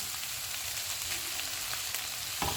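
Beef and vegetable spring roll filling with black pepper sizzles and fries in a pan, a dense steady crackle filling the short span with a brief scrape near the end.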